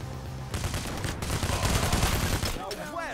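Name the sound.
gunfire in the video game Payday: The Heist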